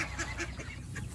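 Chinese ducks at a home duck farm let out a few short, nasal honking calls close by, with no speech.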